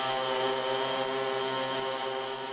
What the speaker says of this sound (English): the manned hoverbike is designed to be flown like a helicopter